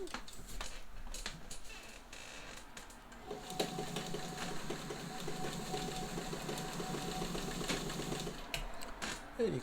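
A two-toned White Model 565 sewing machine runs quietly for several seconds with a steady, soft mechanical whir and light rhythmic ticking, close by, preceded by faint handling noise.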